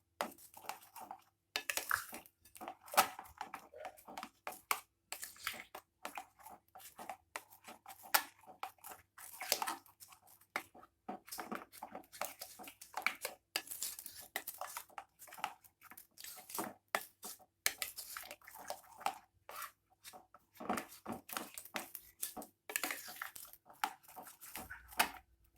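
Flour batter for dadar gulung is stirred in a bowl with quiet, irregular scraping and tapping strokes, close and soft, with short pauses between bursts.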